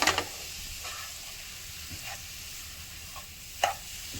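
Coconut barfi batter with milk powder cooking in a kadhai over low gas, a faint steady sizzle with a few soft scraping stirs.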